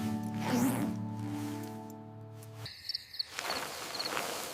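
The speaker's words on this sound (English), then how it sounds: "Listen to the crickets." Crickets chirping at night at a family campsite, a faint high steady chirr behind a sustained low tonal drone that cuts out midway, followed by soft rustling and light shuffling sounds.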